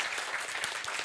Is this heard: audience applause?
yes